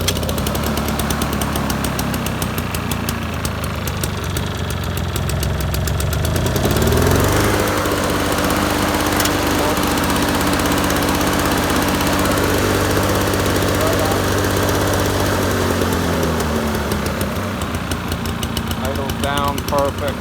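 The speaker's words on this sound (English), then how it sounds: "What a nice running engine." Two-stroke Toro lawn mower, a roadside find, runs steadily and close by, its engine note dropping as it is throttled down partway through, with a steady buzzing drone and a brief voice near the end.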